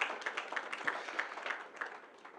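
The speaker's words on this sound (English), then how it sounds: "all deserve another big round of applause for this remarkable feat" Audience applause fills the room at an architects forum in Lagos, a dense, steady patter of many hands clapping at moderate distance, holding even for a couple of seconds with small swells.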